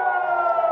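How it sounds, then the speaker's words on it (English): Air raid sirens sounding in Jerusalem, a loud, steady wail holding an even pitch throughout with no voices over it. "And you hear the sirens behind me? They've been going off all morning."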